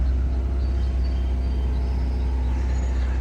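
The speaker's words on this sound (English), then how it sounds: "this car does sound great from the inside, even with the pumped-in audio" Inside a modded 2022 Genesis G70 with the 3.3L twin-turbo V6, a steady low engine drone and road rumble fill the cabin, loud and constant with no talk.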